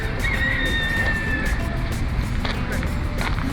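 Roosters crow in a park in Porto, their drawn-out calls rising over steady outdoor background noise, moderately distant.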